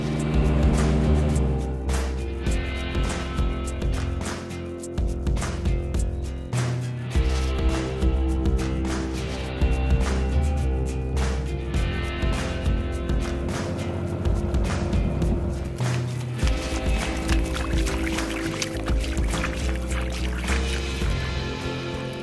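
Small dinghy motoring along coastal water while exploring near a sailboat, its outboard engine droning steadily and loudly throughout with wind and water splash over the hull.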